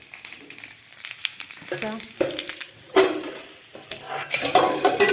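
Garlic and cumin seeds sizzle and crackle in hot oil for tempering, a close, bursty frying hiss with a spatula stirring and scraping the pan, while a voice talks over the cooking.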